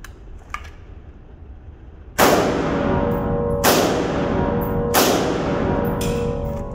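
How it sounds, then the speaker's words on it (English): A select-fire HK33 rifle fired outdoors, three loud sharp shots at roughly even intervals, each followed by a long ringing echo. "this is the first time I'm shooting this particular HK33"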